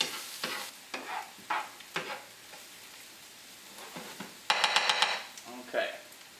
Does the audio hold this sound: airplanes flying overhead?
no